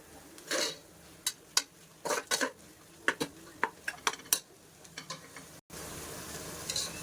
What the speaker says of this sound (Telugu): సో వన్ స్పూన్ సాల్ట్ కూడా యాడ్ చేసేసుకోండి చికెన్ని కొంచెం బాగా ఫ్రై అవనిద్దాం